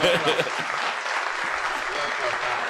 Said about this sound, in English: If Rob was here, give a round of applause right now.